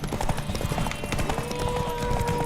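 Horse hooves clip-clop at a fast gallop in the video game The Witcher 3, a loud rapid beat set against music and game ambience.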